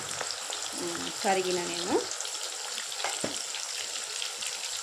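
Half a kilo of thin, long bitter gourd slices fry in hot oil with a steady, close crackling sizzle and light stirring, while a voice speaks briefly over it near the start.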